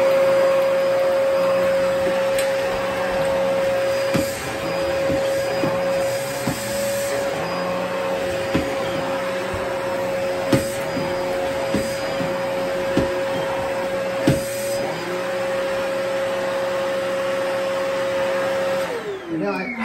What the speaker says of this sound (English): And we put this pet PowerMate on there. And that will do the vacuuming much more nicely.